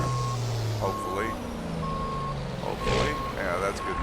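Reversing beeps from a truck in American Truck Simulator repeat at a steady rhythm of evenly spaced tones. A low engine rumble runs underneath, and people talk over it.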